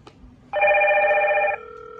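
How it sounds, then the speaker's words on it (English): A Hikvision DS-KIS603P(B) IP video intercom's outdoor stations ring with one loud, steady electronic tone lasting about a second. A quieter lingering tone follows after a brief moment of background hum. "I press this one. These two will be ringing."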